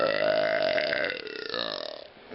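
A single long, drawn-out burp right at the microphone, loud and croaky with a wavering pitch, lasting over two seconds.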